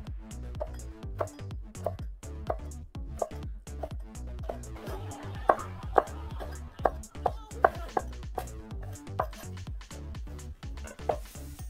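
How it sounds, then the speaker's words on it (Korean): Rapid rhythmic knife strokes on a cutting board as rolled wood ear mushrooms are sliced into thin strips, crisp close chops in a steady train with a few louder hits, alone. "목이버섯은 돌돌 말아서 얇게 채 썰어줍니다"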